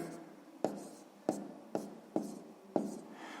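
A pen writes a line of a math exercise on paper, a quiet scratching broken by six sharp taps at regular intervals, close and alone.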